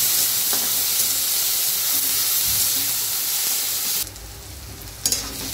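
Chopped onion and tomato sauté in a hot pan for a spiced okra dish, giving a steady close sizzle with scraping stirs. The sizzle drops lower near the end, and a brief clatter of the spoon follows, with no talking.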